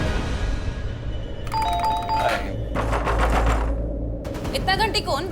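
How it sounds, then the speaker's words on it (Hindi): A doorbell chimes again and again in quick, insistent bursts over a noisy room background. "इतना घंटी कौन बजा रहा है?"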